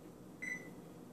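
An oven control panel gives a single short electronic beep while the timer is being set, clear against a quiet indoor hum.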